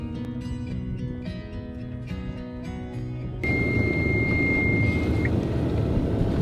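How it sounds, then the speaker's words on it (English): A sailboat's engine starts partway through, its low broadband rumble rising abruptly and then running steadily, with a brief high electronic tone from the alternator regulator, following an earlier stretch of tonal background sound. "Just starting the engine"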